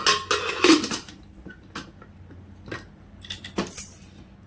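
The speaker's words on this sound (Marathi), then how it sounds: "आता झाकण लावते।" Metal pressure cooker lid being fitted onto a cooker holding dal with salt and water, giving a few close clanks and jangling metallic knocks, loudest at the start, then scattered lighter taps.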